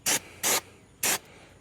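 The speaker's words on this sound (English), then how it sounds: "a little brake clean if you want. Here, I'll show you." Brake cleaner is sprayed onto brake parts during a pad and rotor change, three short, sharp aerosol hisses, the first two close together and the third after a pause, loud and close.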